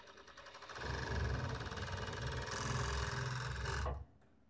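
Sewing machine stitching a seam on a long-sleeve robe, running steadily and close for about four seconds before stopping abruptly, with no talk.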